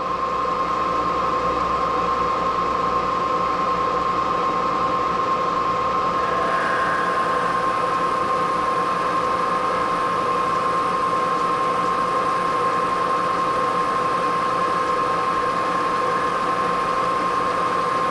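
A Moore jig boring machine in its lowest gear boring a hole of just under an inch, a steady mechanical hum and whine with a constant tone that runs unbroken and fairly loud throughout.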